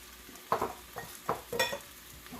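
Noodles with shrimp are stirred and tossed in a pan with a light sizzle, giving quiet scraping strokes at an irregular pace with a soft frying hiss underneath.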